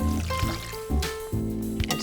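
Chicken stock poured into a blender over roasted vegetables, apples and onions, a close, liquid splashing and trickling pour with small gurgles, steady for about two seconds.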